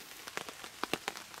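Heavy storm rain drums on a camp tarp by a riverbank, a dense patter of close, sharp drops hitting the fabric irregularly.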